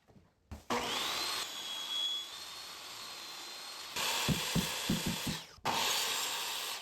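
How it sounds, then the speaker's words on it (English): Power saws cut engineered hardwood flooring planks in two long, loud, steady whines with a brief stop between them. Gritty rubbing pulses of the blade biting the wood come through mid-cut. "repeat the cuts using the table saw and miter saw"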